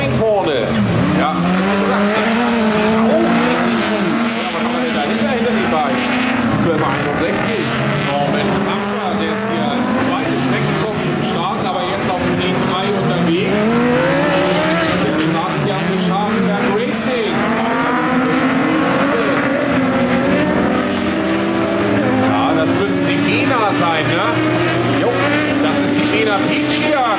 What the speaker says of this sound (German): Manuel Schulz mit dem X19 vorne